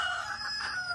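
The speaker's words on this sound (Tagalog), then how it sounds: "Ayan yung mga manok natin." A rooster crows in one loud, close, drawn-out call on a rainy farm, filling the short moment on its own with no voices.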